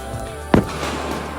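A single sharp gunshot-like bang, loud and brief, over a steady background hum, during a caribou hunt in rainy weather in Alaska.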